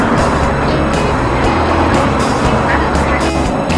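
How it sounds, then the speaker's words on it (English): Street traffic rolls through Philippi, West Virginia during Lurch Fest, a steady loud engine and tire rumble of cars passing close by, with someone talking over it. "Good bit of traffic today."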